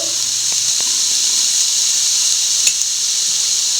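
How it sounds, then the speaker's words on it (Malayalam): Chopped papaya for a Kerala thoran sizzles in a hot pan with a steady, continuous hiss that holds evenly throughout, broken by a single faint tap. "പപ്പരങ്ങ അരിഞ്ഞു വെച്ചിരിക്കുന്നത് ഇട്ട് കൊടുക്കാം"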